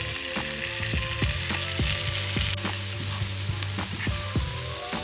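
Indian-style chicken fries in a pan with peppercorns and coriander seeds, giving a steady loud sizzle. A utensil stirs it, making scattered scraping clicks throughout.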